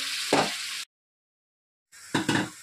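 Ginger garlic paste sizzling in hot oil while being stirred, a close hissing crackle that cuts out into silence and then returns with a couple of louder stirring scrapes.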